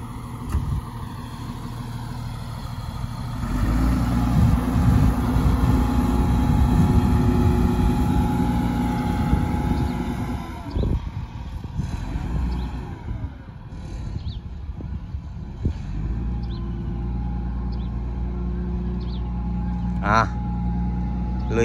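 A wheel loader's engine drones steadily while it scoops and mixes soil, rising to a louder working pitch and then easing back, with someone talking over it much of the time.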